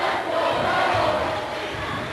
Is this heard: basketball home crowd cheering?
yes